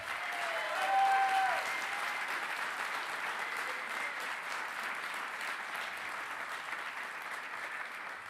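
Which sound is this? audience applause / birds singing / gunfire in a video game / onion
audience applause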